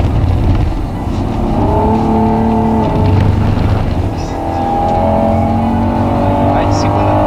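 Someone's Honda NSX accelerating hard in second gear, engine note climbing steadily in pitch under overlapping conversation, with a brief lift before building again.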